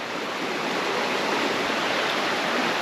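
River flowing below an undercut slip on the Waitewaewae Track in New Zealand, a steady, loud, broadband rush of moving water with no pauses or voices.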